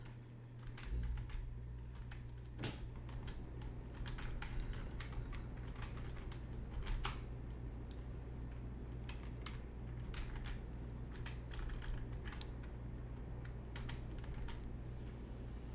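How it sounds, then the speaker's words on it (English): Steady typing of C++ code on a computer keyboard, many quick close key clicks in irregular runs over a low constant background hum, with no voice. "I'm going to type this out and then of course explain what I am doing"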